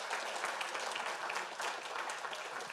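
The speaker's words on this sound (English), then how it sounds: "Another applause for Federico." A conference audience applauds a speaker after a talk on building a CRDT in JavaScript, with steady, dense clapping from many hands, moderately distant and continuous throughout.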